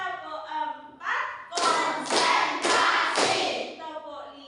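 A classroom of students does a clapping chant, voices chanting first, then four loud group claps in an even rhythm.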